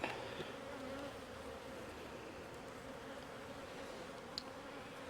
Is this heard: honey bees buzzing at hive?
yes